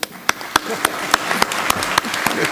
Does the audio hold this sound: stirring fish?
no